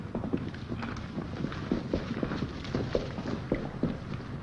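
Horses walk along a forest trail, hooves clip-clopping in a steady uneven rhythm at close range, continuous for several seconds with no talking.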